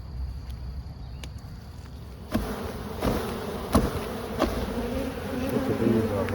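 A honey bee swarm being hived drones in a steady, close buzz, with a few sharper individual bees passing near and faint handling thumps partway through.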